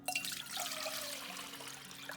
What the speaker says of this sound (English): So what you want to do is you'll first add the water